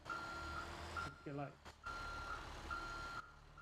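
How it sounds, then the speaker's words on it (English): Reversing beeper on a truck backing up in a CyberCore roleplay video game, regular evenly spaced beeps over an engine rumble, cut briefly by a voice speaking. "will be backing up the"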